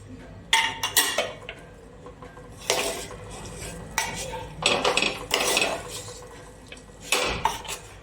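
A spoon scrapes and clanks against a metal pot while hot Kathiyavadi lapsi is stirred with ghee. The clattering comes in several bursts with short pauses between them, close and fairly loud, and no one speaks.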